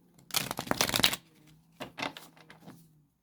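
Two quick bursts of tarot cards being riffled and shuffled, a dense flutter up close followed by a few softer separate rustles and snaps.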